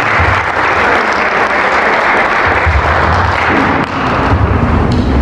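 Loud, dense audience applause fills a ceremony hall, sustained and steady throughout with no talk over it.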